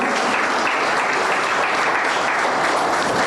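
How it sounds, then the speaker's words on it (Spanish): A church congregation applauds the Lord during a service, loud sustained clapping that stays even and unbroken through the whole stretch. "Dale un aplauso al Señor."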